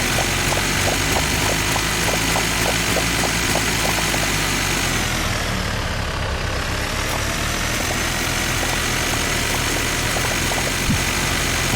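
A tractor engine in the farming video game Dinkum drones steadily and loudly throughout, a continuous idling rumble with faint rhythmic ticking over it and no talk.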